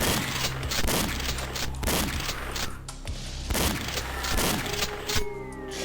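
Shotgun fire in a SEGA Saturn game, heavy booming blasts repeating about every second, each with a short rumbling tail, loud and near over a continuous game backdrop.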